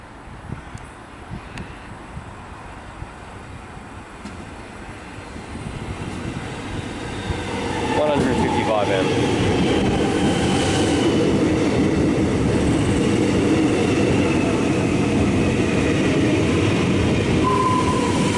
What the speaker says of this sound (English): the last train of the video is coming in